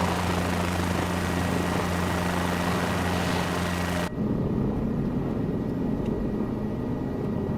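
Steady, loud rotor and engine drone from a helicopter in a flight simulator game, a constant hum that abruptly changes tone midway as the sound continues without pause.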